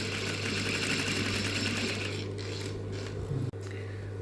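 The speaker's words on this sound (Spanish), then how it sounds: "voy a coser" A sewing machine stitching a fabric pocket runs at a steady rapid whir with a constant motor hum, close and continuous, then slows and stops with a short clunk near the end.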